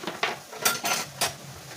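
Mushrooms are tipped into a pan to cook, giving several close, bright clatters and scrapes of food and utensil against the metal pan, with no talk.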